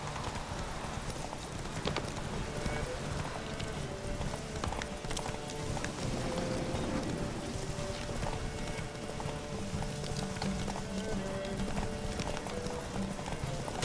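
Rhythmic clip-clop of the horse Roach galloping in The Witcher 3, with steady hoofbeats and occasional whinnies over game music and ambience.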